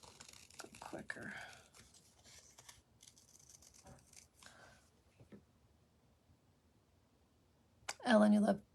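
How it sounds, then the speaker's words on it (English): Close, quick snips of scissors cutting paper for craft tags, with soft whispery talk and rustling at the start and a louder crinkle near the end. "I can do that with my big girl scissors."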